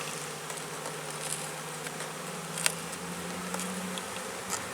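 Honeybees in an opened hive during a spring inspection after winterization comes off, their steady buzzing droning on throughout, one bee briefly passing close, with light clicks of handling the frames.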